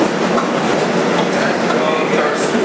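A 2001 Bombardier NYC subway car, #6676, runs on the 2 train along the IRT White Plains Road Local, making a loud, continuous interior roar of wheels and rails with faint squeals.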